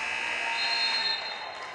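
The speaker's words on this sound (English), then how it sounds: "So Stefik comes down really poised and hits a shot at the buzzer" Basketball game buzzer at a girls high school match, a loud sustained electronic tone lasting under two seconds over faint arena background.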